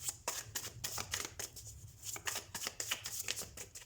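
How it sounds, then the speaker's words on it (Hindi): A deck of tarot cards is shuffled up close, with rapid papery riffles and slaps in quick bursts, a short pause in the middle, and no talking. "तो सबसे पहले हम कार्ड शफल कर लेते हैं।"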